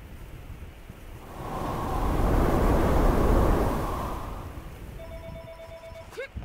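A rushing gust of wind in the game Never Alone swells and fades, then a telephone starts ringing at the very end.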